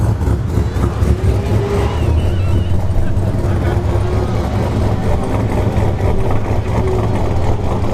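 A fifth-generation Camaro and a Cadillac CTS-V idle loudly side by side at a drag strip, their deep engine rumble steady and throbbing throughout, with a voice talking over it.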